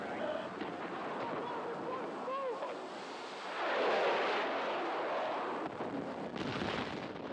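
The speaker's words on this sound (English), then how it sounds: "Close to an airstrike." Airstrike blasts in the Battlefield game, with a broad rumbling explosion swelling around the middle of the stretch over steady battlefield noise, with a voice talking through it.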